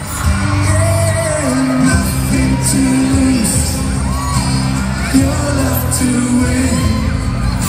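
At a concert at MOA Arena, a packed crowd screams and cheers loudly as the vocalist comes down from the stage, a dense, sustained roar blended with the music.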